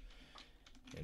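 Keys clatter on a computer keyboard in a few quick, soft taps, quiet and close, as text is entered into an AI image prompt.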